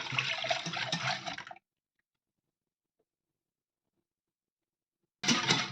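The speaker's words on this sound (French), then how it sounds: "Je rajoute le restant de mon lait." Milk poured into a mixture, a close splashing stream that runs briefly, stops into silence, then resumes at the end.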